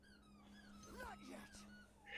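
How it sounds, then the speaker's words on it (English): Anka, a dog, lets out a faint, brief rising and falling howling whine with yipping edges behind a steady electrical hum, quiet and somewhat distant. "I hear a howl. Would you like to know why Anka is howling?"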